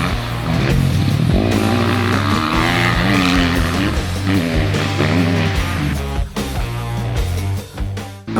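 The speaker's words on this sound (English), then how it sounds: "using the clutch and throttle to make the bike slide the way he wants it to" A motocross bike slides through a corner with the rider working clutch and throttle, the engine buzzing and revving loudly with rapid pitch swings and brief drops as the throttle is blipped, heard up close.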